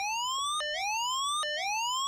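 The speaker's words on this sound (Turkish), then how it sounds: "Batarya 10 olur olmaz low RPM alarmı çalmaya başladı." The low RPM warning alarm of the UH-1 Huey helicopter in the DCS World video game sounds as a loud, steady electronic tone. It slides upward and then drops sharply, repeating in a regular cycle of just under a second, with nothing else heard.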